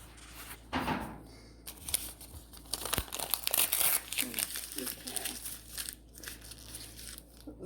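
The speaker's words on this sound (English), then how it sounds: "all I heard was a plastic bag" A plastic bag crinkles and rustles close by in a kitchen, in uneven bursts of crackling that rise and fall, with brief talking mixed in.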